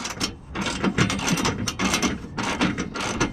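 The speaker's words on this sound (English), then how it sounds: "just go ahead and ratchet those in" A hand ratchet drives bolts into the transfer case shield of a 2020 GMC Sierra with rivet nuts: a steady run of quick, close mechanical clicks and clatter heard on its own.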